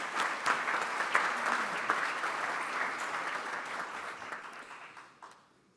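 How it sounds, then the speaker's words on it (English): A room full of club members at an Oklahoma City Club gathering applauds its guests: steady, dense clapping that holds for several seconds, then fades out near the end. "Let's give a round of applause for all of our guests."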